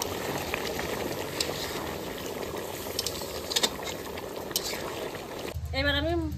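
Rita fish curry bubbling in a pot, a busy simmering crackle beneath a voice talking over it, with a short musical tone near the end.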